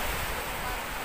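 Sea waves at a beach wash in a steady, broad roar of surf, close and continuous, with no distinct breaking crest in this short moment.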